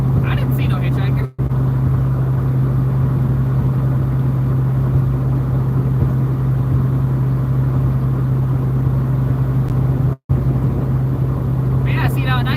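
A 1981 Mustang cruising on the road, a steady low engine drone and road rumble heard from inside the car throughout, with two brief dropouts and a voice talking over it.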